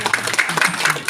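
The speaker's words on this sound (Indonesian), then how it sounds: "Tepuk tangan sekali lagi buat Bapak Ibu." A seminar audience breaks into brief, close applause, with quick uneven claps bunched together in a short burst.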